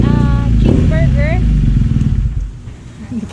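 A BMW R NineT motorcycle engine idles and rumbles close by while a person talks over it near a fast-food drive-through, the low engine note steady beneath the voice.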